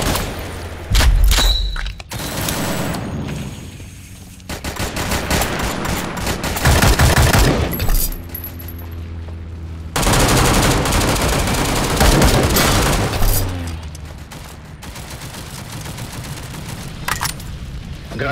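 Support fire in World War Heroes, a combat shooter: loud bursts of rapid gunfire and heavy booms arrive in several separate volleys, with short quieter gaps between them.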